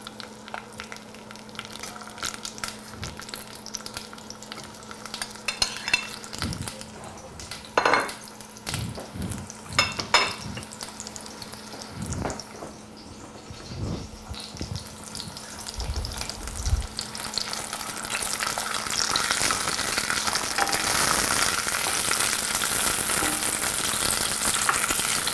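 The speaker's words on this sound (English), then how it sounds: "once that oil is hot, I'm going to add my sliced onions" Sliced onions frying in hot olive oil in a pan, a steady sizzle that builds and grows louder toward the end, with occasional clinks and stirring knocks of utensils against the pan.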